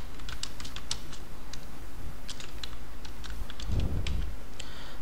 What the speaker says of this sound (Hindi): यह हम अपने फर्स्ट पेज पर टाइप कर रहे हैं।